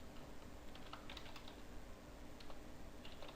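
Steady typing on a computer keyboard while entering code, with a rapid stream of light, close key clicks over a constant background hiss, no talking.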